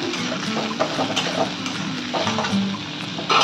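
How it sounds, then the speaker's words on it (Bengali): Ingredients frying in oil over a high flame for a prawn paste dish, a steady close sizzle with intermittent stirring scrapes and soft clatters of the spatula against the pan. "এবার এগুলোকে ভালো করে তেলের মধ্যে ভেজে নেবো।"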